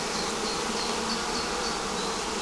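A honeybee swarm that has settled into an old hive baited with old wax and propolis hums in a dense, continuous buzz, close and steady without pause.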